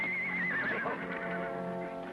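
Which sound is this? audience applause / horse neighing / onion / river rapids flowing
horse neighing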